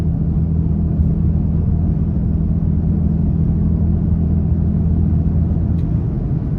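Toyota Tacoma fitted with a new roof rack cruising at 55 mph, a loud, continuous low roar of wind and road rumble filling the cab without any speech.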